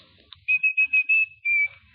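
A single tuneful whistle, a series of short high notes followed by a longer held tone, clear and close against a quiet background.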